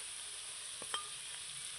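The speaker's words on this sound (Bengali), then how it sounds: "এর মধ্যে আমি দিয়ে দিচ্ছি কাঁচা লঙ্কা শুকনো লঙ্কা" Green and dried chillies dropped into fried onions in a pan at home, a faint steady sizzle with a couple of brief stirring scrapes, no voices.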